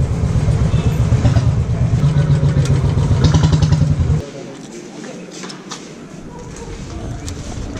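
A Royal Enfield motorcycle engine idles with a loud, steady thump at a service centre for about four seconds, then drops away abruptly, leaving quieter workshop background noise.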